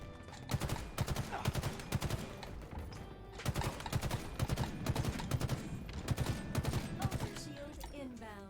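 Rapid bursts of video game gunfire crackle in dense volleys across the whole span, with short gaps between clusters of shots, loud and close, while game sounds and effects ring around them.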